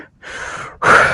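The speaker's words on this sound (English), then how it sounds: "I don't mean to breathe in the mic." Close breathing right into a microphone at a gym session, a short soft exhale followed by a louder, sharper gasping breath.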